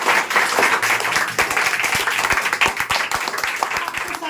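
Students in a classroom break into applause after a science lesson on solutions, suspensions and colloids, a dense, steady patter of many hands clapping close by, with faint voices mixed in.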